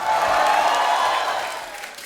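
A studio audience on a Hindi comedy talk show applauds loudly to welcome a film director and an actress, a dense, steady wash of clapping that gradually fades toward the end, with no talking.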